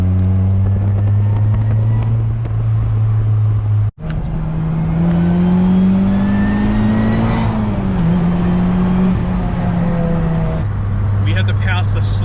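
A 350 hp supercharged Honda Civic accelerating hard, its engine note climbing steadily in pitch, dropping briefly at a gear change, then pulling up again, loud and close from inside the car.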